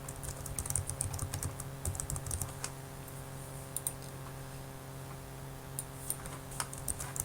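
Someone types an email address on a computer keyboard: bursts of quick, light key clicks close by, with pauses between them in a quiet room.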